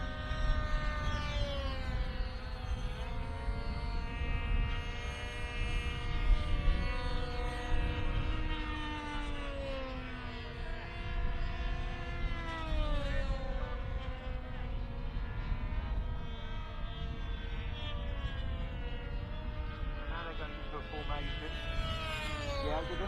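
A model aircraft flies at the Popham model airshow, its engine whining steadily and rising and falling in pitch as it passes. The drone continues without a break while a commentator talks over it.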